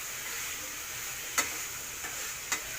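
Chicken fries in a pan, a soft continuous sizzle with a few light clicks of stirring as the pieces are moved around, faint and close.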